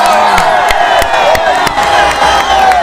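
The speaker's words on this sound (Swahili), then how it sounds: "Pigeni ya makofi." A crowd at a political rally claps and cheers loudly and continuously, with sharp hand claps punctuating a dense roar of voices.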